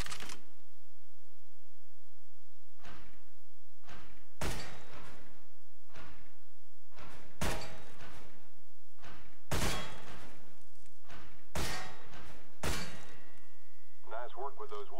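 Gunfire in a Counter-Strike: Global Offensive weapon course aimed at wooden terrorist targets: loud, separate single shots that crack at irregular intervals, each with a short echoing tail over a steady low hum.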